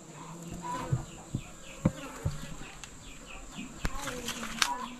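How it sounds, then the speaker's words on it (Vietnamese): Agitated bees hum steadily around honey-laden hive boxes outdoors, their close, continuous drone broken by sharp clicks and taps and occasional individual insects passing near, with a voice speaking softly beneath. "Những tổ ong như này thì đang có rất nhiều mật nên là nó rất là dữ nhé."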